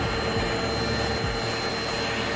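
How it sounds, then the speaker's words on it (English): Vacuum cleaner running inside a pair of Crocs shoes, a loud steady whooshing drone with brief low bumps as the nozzle moves. "I'm gonna get a vacuum really quick and try to clean them out as best I can."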